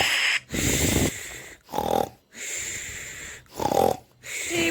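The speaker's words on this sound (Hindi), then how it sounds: "इसके खर्राटे कितने इरिटेटिंग हैं।" A cartoon teddy bear snores loudly in three slow cycles, each a long rasping inhale followed by a wheezy, snorting exhale, with short silent pauses between.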